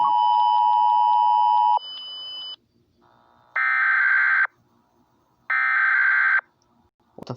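An Emergency Alert System tone sounds alone: a long steady two-tone beep, a shorter tone, then two separated bursts of harsh, buzzing attention-signal tones with silent gaps between, clear and close.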